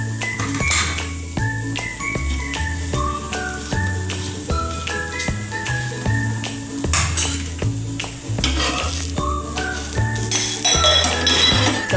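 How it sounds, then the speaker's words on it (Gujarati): Potato masala is spread over a dosa cooking in a pan, with repeated clinks and scrapes of a utensil against the pan and a light sizzle underneath, all under steady background music. "તો હવે આપણે બટેટાનો મસાલો એડ કરી દઈશું."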